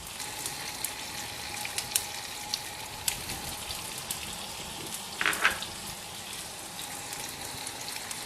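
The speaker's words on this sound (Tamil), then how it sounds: "கடுகெல்லாம் வெடிச்சிருச்சு" Mustard seeds crackle and splutter in hot oil during tempering for a Tamil-style kovakkai (ivy gourd) curry, a steady dense sizzle with scattered sharp pops and one brief louder burst, close and alone.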